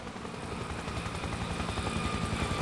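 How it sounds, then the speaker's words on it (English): An incoming helicopter in Spec Ops: The Line, a continuous rotor thump and engine drone heard alone, fairly close and steady across the clip. "Slow up. Incoming helo."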